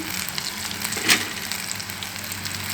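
Eggplant fritters (vankaya bajji) deep-frying in hot oil, giving a steady close sizzle with one brief louder crackle partway through.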